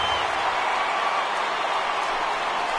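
Home crowd roaring in a baseball stadium in MLB The Show 18, a steady, dense wash of cheering and applause that holds at full level throughout without a break.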